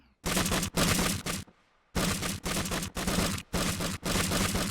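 A .50 cal machine gun on an M4A3E8 Easy Eight Sherman tank in the game Scrap Mechanic fires loud, close sustained bursts, about six long rattling volleys separated by short pauses.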